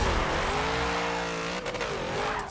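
A Porsche 906 race car engine revs as it accelerates, a loud close harmonic drone whose pitch rises and dips, then climbs again before cutting off abruptly.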